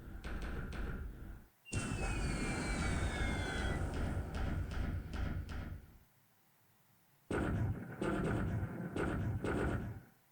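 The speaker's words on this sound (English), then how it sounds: "So this was torpedo bombers, but they're attacking my screening force" Torpedo bombers attack ships in the War in the Pacific strategy game, with loud roaring engine bursts, a descending whistle and thuds, a quiet gap, then another noisy burst.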